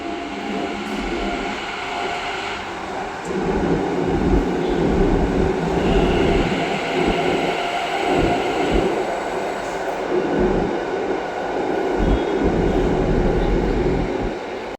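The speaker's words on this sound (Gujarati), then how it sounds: "ફાઇનલી ગઈ આપણી મેટ્રો આવી ગઈ છે અમદાવાદની" An Ahmedabad metro train pulls into a station with a loud, close rumble of wheels on rails that swells and holds steady, with faint squealing and rhythmic clatter underneath.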